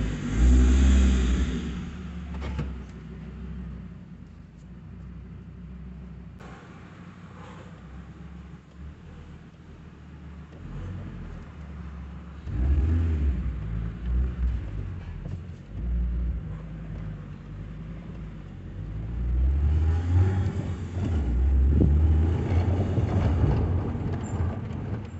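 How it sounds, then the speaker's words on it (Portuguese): A Fiat Marea drives with its original exhaust and closed diffuser, a low engine rumble that swells and fades through several accelerations and eases off between them, close and without talk. "Vamos dar uma voltinha primeiro com o ronquinho original"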